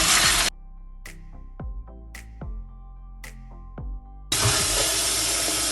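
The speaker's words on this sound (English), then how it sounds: "You're gonna wash it in cold water." Dried beans being rinsed in cold water in a sink, with a steady tap stream at the start and end and a few separate splashes and clinks in between, close and alone.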